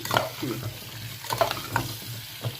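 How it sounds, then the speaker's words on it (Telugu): Amla pickle with salt and turmeric is stirred in a pan with a spoon, giving a short run of soft scrapes and clinks over a low sizzle, close up. "కొంచెం పసుపు వేసి కలుపుకోవాలి"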